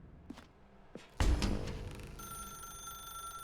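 Telephone in The Stanley Parable: Ultra Deluxe, a few soft footsteps, then a loud thud and clatter followed by a steady electronic ringing tone that continues to the end.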